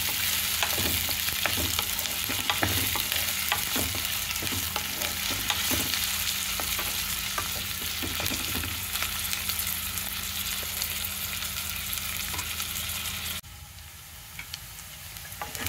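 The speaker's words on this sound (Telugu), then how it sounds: "ఉల్లిపాయ ఇలా వేగిన తర్వాత" Onions frying with ginger garlic paste in a pan, a steady loud sizzle with occasional scraping stirs, continuing without pause before the sizzle drops away near the end.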